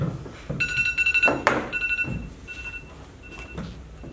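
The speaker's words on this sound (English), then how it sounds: "That's the sound of my alarm." A morning alarm clock pinging in repeated bursts of bright electronic beeps, separated by short gaps and mixed with soft room thumps and rustling.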